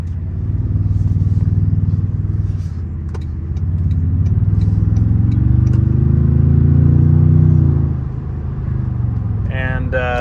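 A 2022 Toyota Tundra TRD Pro with a 437-horsepower hybrid powertrain drives along, its engine note rising and falling as it accelerates, with steady road rumble inside the cab and a person talking over it near the end.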